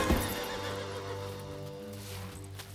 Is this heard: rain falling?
no